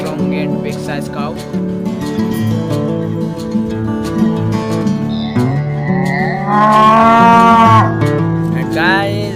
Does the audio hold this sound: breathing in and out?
no